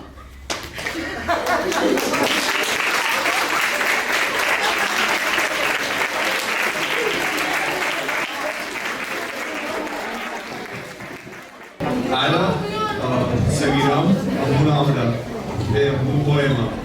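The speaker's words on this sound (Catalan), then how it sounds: "Fort aplaudiment." A theatre audience at a Catalan poetry tribute breaks into long, loud applause that fades, then a second burst of clapping follows with voices mixed in.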